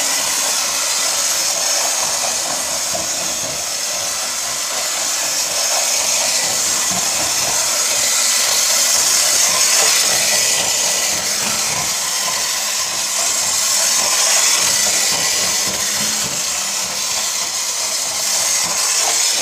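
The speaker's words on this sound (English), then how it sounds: "Look at that prop spin." A clockwork Lionel rail-zeppelin toy from the 100th anniversary line spins its propeller, giving a steady, fairly loud whirring hiss that runs without pause and with no voices over it.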